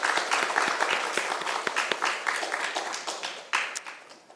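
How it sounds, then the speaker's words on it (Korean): A church congregation at a Sunday worship service breaks into warm, dense applause, many hands clapping close and continuous before gradually thinning and tapering off. "우리 서로에게 칭찬하면서 박수 한번."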